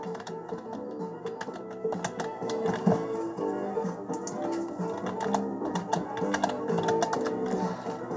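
Typing a message on a keyboard, close irregular runs of light key taps with brief pauses, continuing steadily without talk.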